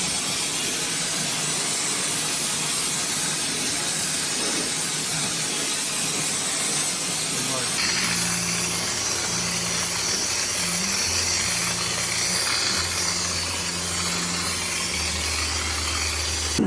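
A spray gun hisses steadily as it sprays thinned body deadener onto a 1971 Ford XY GT. The hiss is loud and continuous, and a lower, pulsing motor or compressor hum joins partway through.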